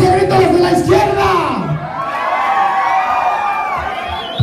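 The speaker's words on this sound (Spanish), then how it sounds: "los de la izquierda van a gritar perrón" A dance crowd yells together in a loud, sustained shout that swells and then settles into scattered cheering and chatter.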